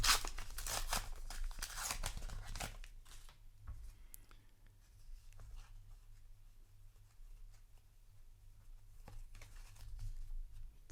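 A Flesh and Blood trading card booster pack is torn open by hand, with crinkly foil ripping and rustling loudly for the first few seconds, then quieter handling of cards and wrapper close by.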